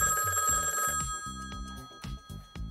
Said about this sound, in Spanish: Suena el teléfono y son ellos dos en conferencia.